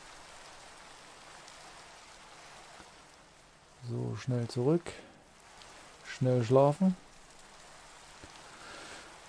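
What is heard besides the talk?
rain in video game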